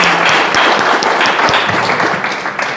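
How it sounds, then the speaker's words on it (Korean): Crowd applause at a Korean seminar or lecture, a loud, continuous wash of many hands clapping throughout, slightly tapering near the end. "저분께 박수 한번 주실까요?"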